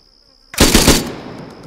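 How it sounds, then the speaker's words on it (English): Gunfire in the video game Arma 3, played on the Lingor map with the Exile mod: after a quiet start, a sudden loud burst of rapid shots lasts about half a second, then fades into a reverberant tail. No one speaks. "Oh, shots at us."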